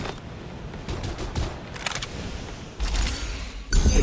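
Gunfire from the video game Farlight 84 rattles loudly and continuously in rapid automatic bursts, with the shooting swelling near the end amid battle noise.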